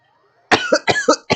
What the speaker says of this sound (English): I'm sorry for y'all to hear me fucking cough all the damn time